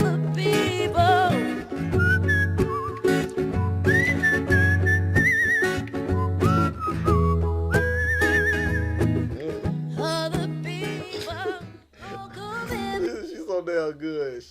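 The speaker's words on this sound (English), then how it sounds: "She can whistle." A singer whistles in a live performance, clear melodic whistled phrases gliding and holding over a band accompaniment, loud and up front, with sung and spoken voice passages in between.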